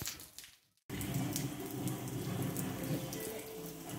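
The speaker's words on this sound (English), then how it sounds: "Yeah. It's raining in our house." Water from a rain leak inside a house, plumbing in need of repair, pours and splashes steadily after a brief silence, a continuous close gushing like a running tap.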